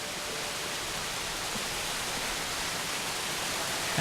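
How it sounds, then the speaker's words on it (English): Steady, dense rush of falling water from a waterfall in the video game Obduction, a constant broadband roar with no pauses and no voices. "Hello, waterfall."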